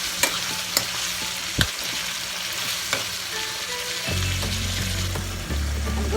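An eggplant and ground pork stir fry with soy sauce crackles and sizzles in a pan as it is mixed, with a steady frying hiss, sharp spatter pops and occasional scraping of the utensil, close up, and no talking.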